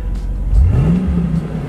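Ford F-150 SVT Lightning with a supercharged engine revving up, a loud close rise in engine pitch with supercharger whine, then held high.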